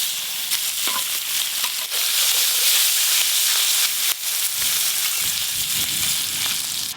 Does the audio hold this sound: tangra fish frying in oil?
yes